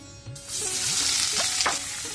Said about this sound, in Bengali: এখন ফ্রাই প্যানের মধ্যে দিয়ে দিচ্ছি পেঁয়াজ কুচি